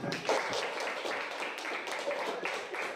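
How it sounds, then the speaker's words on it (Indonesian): Classroom applause from a group of students at an Islamic religious education lesson, a steady broadband patter of clapping lasting throughout, with some voices mixed in. "Kita beri tepuk tangan untuk kita semua"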